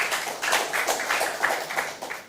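A quiz-show audience at a Ghanaian senior high school competition claps for the teams. The short, fairly quiet burst of scattered clapping lasts about two seconds.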